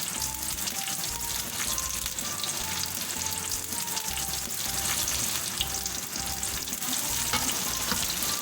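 Chopped green chillies frying for gola kabab, giving a dense, continuous sizzle and crackle in hot oil up close, steady throughout with no voices.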